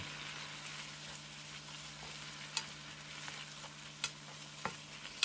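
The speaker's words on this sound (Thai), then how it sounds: "ผัดลุกเคล้าเข้ากันดีทุกอย่างสุก" Pork with ground pepper and soaked shiitake mushrooms stir-frying in a pan gives a faint, steady sizzle and hiss, with a few sharp clicks of the utensil against the pan.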